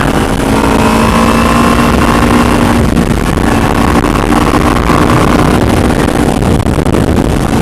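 Loud, constant engine drone from a moving motorcycle with heavy wind buffeting against the microphone, no speech.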